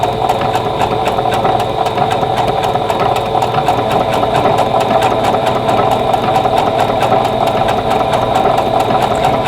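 A quilting sewing machine embroiders over a single layer of fabric with white thread, running steadily and loudly in a fast, continuous mechanical whir with a dense stitching rhythm throughout.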